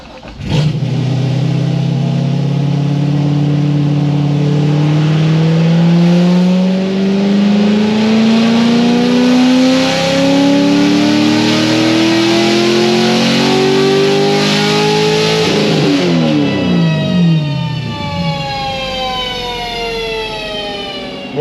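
A Stage 4 Corvette Z06 engine revs very loudly and close up for a long stretch, its pitch climbing steadily and then dropping and rising again as the throttle changes, with no talk.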